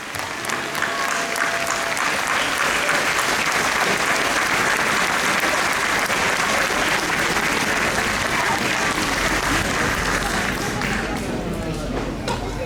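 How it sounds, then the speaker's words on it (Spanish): A large audience at a tribute event for Bebe Sendic applauds José Mujica with sustained, dense clapping that fills the space evenly for over twelve seconds and fades slightly at the end. "Fuerte el aplauso para José Mujica"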